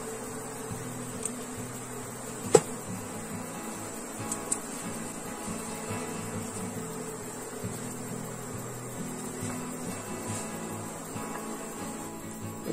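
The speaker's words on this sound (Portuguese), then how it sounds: "Olha só, gente, a abelha rainha, peguei." A queen honey bee that a beekeeper has just caught and is holding for marking gives a faint, steady buzz, with a few soft clicks and taps along the way.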